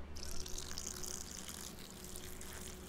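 Water poured into a pot in Cooking Simulator, a steady faint splashing trickle running continuously for a few seconds over a low background hum.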